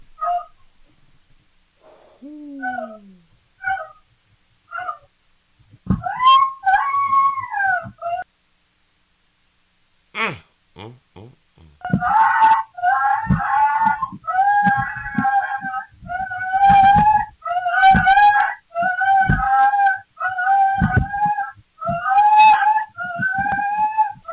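A dog being beaten with a rubber mallet howls in long, wavering cries broken by short whimpers and yelps, loud and close, with a brief pause before the howling resumes in repeated bursts.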